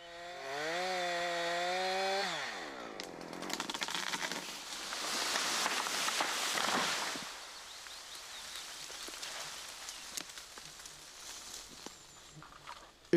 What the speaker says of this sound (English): Keep sawing until the bar is parallel with the directional notch on the other side.